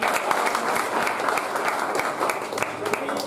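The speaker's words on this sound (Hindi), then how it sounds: "इनके लिए एक बार जोरदार तालियों के साथ" Audience applause for students at a Dev Classes Bundi ceremony celebrating BSTC 2022 results: dense, steady clapping from a crowd throughout, fairly loud, with voices mixed in underneath.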